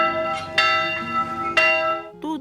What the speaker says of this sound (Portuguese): até o badalar do sino